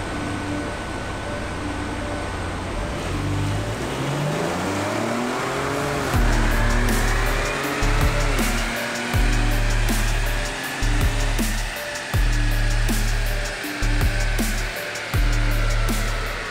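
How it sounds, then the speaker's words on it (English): A Lincoln Navigator EcoBoost with a tuned ECU accelerates hard from a standstill in a 0-60 run, its engine note rising through several gear changes with a steady loud roar and brief dips between shifts. "we're gonna do a couple 0-60 runs and the quarter mile test"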